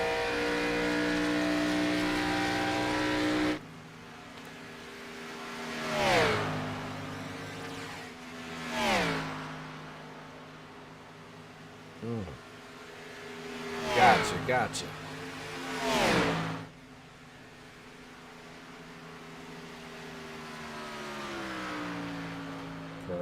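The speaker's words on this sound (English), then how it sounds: "we might just turn down the car engine noise just a little in total" Race car engines roar past one after another, rising and falling as they sweep by, over a steady engine drone with a voice speaking briefly.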